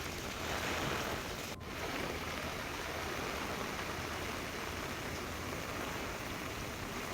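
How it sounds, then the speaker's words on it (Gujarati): Heavy rain pours down in Valsad district, Gujarat, as a dense, steady broadband hiss of downpour that continues unbroken throughout, loud and close with no voices. "વલસાડ જિલ્લામાં ધોધમાર વરસાદ વરસી રહ્યો છે"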